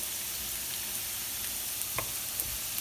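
Garlic sizzles in olive oil in a pan, a steady soft crackling hiss throughout with a few faint clicks of stirring, heard alone without talking.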